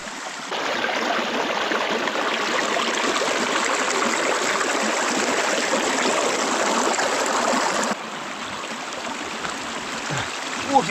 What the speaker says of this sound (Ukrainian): Струмочок гірський, нехай собаки трошки водички побрязкаються.